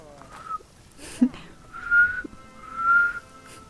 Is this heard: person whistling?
yes